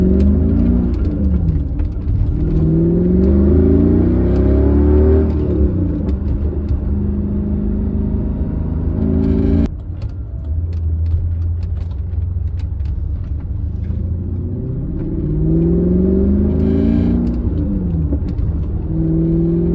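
Manual-swapped Mercedes C55 AMG V8 pulling hard on the road, a loud rising engine drone with gear changes, brief crackling exhaust pops on lift-off, heard from inside the car without talk.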